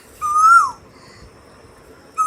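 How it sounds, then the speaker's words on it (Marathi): An Asian koel gives a clear, loud, rising-then-falling whistled call. After a short pause a second call begins, and no other sounds or voices compete with it. "त्याचा आवाज कुहू कुहू असा आवाज मधुर आवाजाने संपूर्ण वातावरण प्रसन्न करतो"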